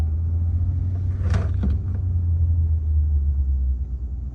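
A Renault Captur 1.3 TCe mild hybrid 140 hp making a U-turn, heard as a steady, close low engine rumble with a brief rise in the middle and no speech.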